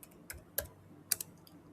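A name being typed on a computer keyboard, a few soft, quiet, irregular keystrokes and clicks close by, with no talking.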